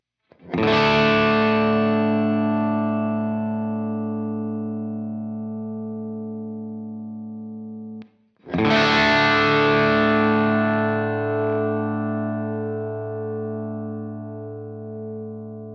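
An electric guitar chord through a humbucker pickup rings out with light overdrive, sustaining and slowly decaying, then is struck again and left to fade.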